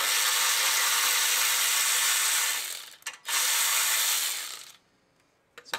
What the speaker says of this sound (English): what we're gonna do is unbolt the bracket first so we have some flexibility with that